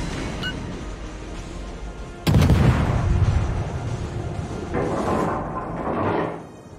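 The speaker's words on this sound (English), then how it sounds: "Somebody's firing at me, it seems." Naval gunfire in the World of Warships game arrives as a heavy booming salvo, a sudden loud low blast that rolls on for several seconds, followed by a second, softer rumbling wave as it fades out.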